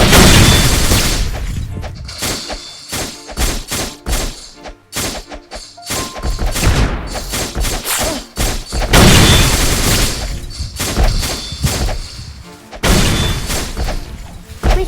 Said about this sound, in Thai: ผมมีระเบิดพุ่งมาตรงกลางนะครับ